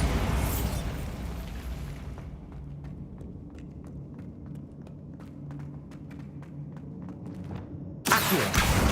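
An explosion from the Bombarda spell in a video game, a loud broadband burst that rumbles and decays over a couple of seconds, then a string of small crackling pops and debris ticks before another sharp blast at the end.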